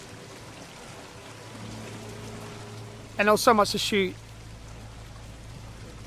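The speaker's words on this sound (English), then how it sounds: "Rain machines are on there" Rain from rain machines on an overcast film set hisses as a steady, even wash throughout, with a low hum beneath and a brief spoken phrase over it midway.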